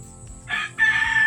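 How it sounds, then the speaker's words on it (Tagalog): Two rooster crows in quick succession, the second longer than the first, standing out over quiet background noise. "sunod-sunod na naman ang tulaok dito"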